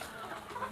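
A chicken sick with fowl cholera gives soft, faint clucks against a steady low background hum, short and close.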